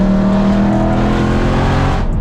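A BMW E92 M3 drives along with a steady, loud engine drone from inside the cabin, the tone rising slightly before easing off at the end.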